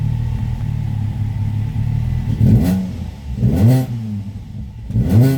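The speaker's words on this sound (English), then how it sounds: "Now starting the car up just to make sure everything's running." A Ford Fiesta ST engine idles with a steady low rumble, then revs sharply three times in quick bursts, each rising and falling back to idle, close and loud.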